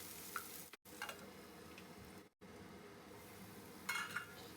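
Green chillies and tomato pieces fry in a pan with a soft, steady sizzle, broken by two brief gaps and a few faint clinks; no one speaks.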